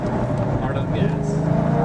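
A car accelerates hard around a clockwise skidpad, its engine a loud, steady drone with voices speaking over it.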